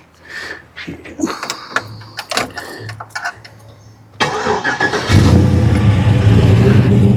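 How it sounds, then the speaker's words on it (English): A Dodge Dakota pickup truck starts up after some door and handling noises, then its engine settles into a steady, close running rumble as it pulls into a shop. "We'll take a little ride in the Dakota, at least pull it into the shop."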